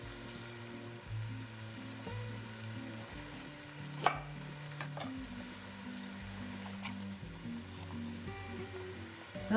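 Tomato sauce for turkey stuffed peppers simmering and sizzling in a pan, a steady soft bubbling hiss with a low hum beneath and one sharp clink near the middle.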